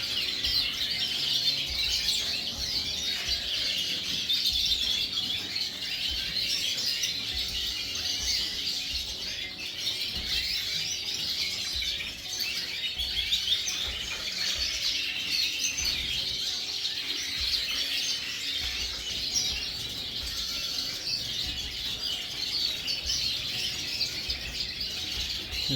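Many small birds chirp and tweet continuously in an aviary holding siskins and other finches, a dense bright chorus of overlapping calls close by, with no talking.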